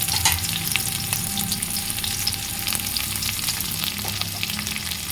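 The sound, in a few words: onions frying in garam masala tempering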